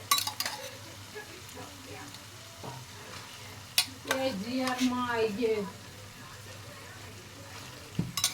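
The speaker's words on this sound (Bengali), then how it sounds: "এবার আমি এখানে যে কাবলি ছোলাটা সেদ্ধ করে রেখেছিলাম ওইটা দিয়ে দেব এর উপরে" Boiled kabuli chickpeas going into frying masala in a pan, with a soft sizzle under clinks of a spoon on metal and a short stretch of voice in the middle, then another clink near the end.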